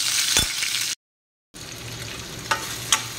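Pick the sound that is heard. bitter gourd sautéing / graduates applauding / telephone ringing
bitter gourd sautéing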